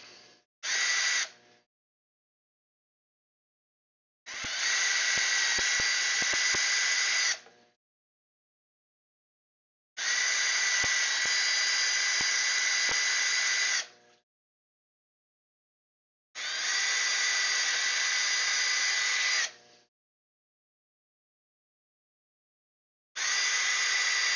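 A power drill boring holes for aquarium valves, running in five separate loud bursts of whirring, each a few seconds long, with silent gaps between them.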